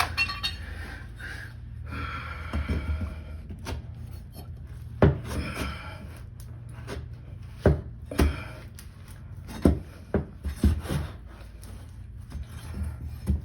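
A utility knife scrapes and cuts through caulking along a drywall baseboard, with rough rasping strokes and several sharp knocks and scuffs close by, uneven in rhythm over a low room hum, with no talking.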